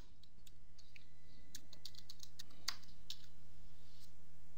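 Keys click on a computer keyboard while an email address is typed, a few scattered taps followed by a quicker cluster of crisp keystrokes over a low steady hum, no voices.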